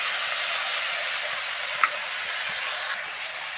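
Spice paste with turmeric and chopped tomato sizzling and frying in a pan, a steady close hiss with a single small pop midway, no voices.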